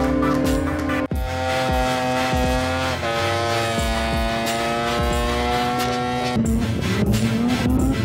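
A 650 hp drag-spec rotary-engine Mazda Savanna RX-3 at a rotary-only car event, its engine droning loud and steady up close before its pitch climbs under hard acceleration near the end.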